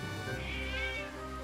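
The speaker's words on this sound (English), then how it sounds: "Oh, there's a cat back here." A cat meows in the video game Triangle Strategy, a single drawn-out, tonal call over steady game music, clear and close.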